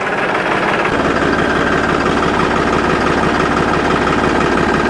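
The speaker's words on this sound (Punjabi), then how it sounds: "ਟਰਾਲੀ ਚੱਕਦੀ ਤਾਂ ਟਰੈਕਟਰ ਬਸ ਲੀਵਰ ਡਾਊਨ ਕਰ ਦਿਓ ਥੋੜਾ ਜਿਹਾ" A tractor engine raising a 32 by 7.5 foot hydraulic trolley starts up after a second and runs with a loud, steady low rumble and drone, close by, with no talk over it.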